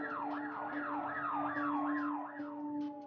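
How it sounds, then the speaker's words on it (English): A wailing siren rises and falls in a steady repeating sweep, loud and continuous, with a steady low hum of traffic beneath it. "And then they started drowning me out with sirens."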